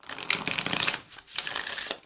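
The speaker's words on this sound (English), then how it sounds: "I'm going to take a few moments to shuffle the deck." A deck of oracle cards shuffled by hand on a table, two quick bursts of riffling and sliding card noise with a brief pause between, close and fairly quiet.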